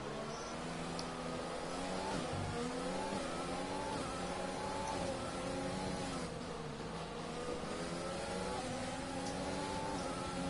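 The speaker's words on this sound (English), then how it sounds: "Froglabell goes up into 8th place now, as he goes after the Williams in 7th place." Formula 1 racing cars lapping Zandvoort in a video game race, a continuous buzzing high-revving engine drone with pitch rising and dipping through gear changes, steady and fairly faint throughout.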